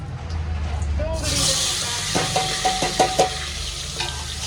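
Asafoetida dropped into hot oil for tempering a spiced rice dish: a loud, steady sizzling hiss bursts in about a second along with a voice, followed by a few light stirring taps.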